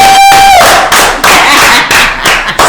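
A small studio crowd on a radio talk show claps for a DJ's introduction, sharp loud hand claps and thumps in uneven bursts right after a fading tone, close to the microphone.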